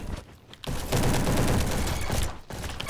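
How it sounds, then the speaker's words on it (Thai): Sustained, dense volley of M14 rifle gunfire from the Roblox game Bad Business, loud and close, running nearly the whole time with a brief lull near the start and end. "มันเอา M14 มายิงฮะ"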